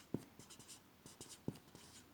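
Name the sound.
writing with a pen on paper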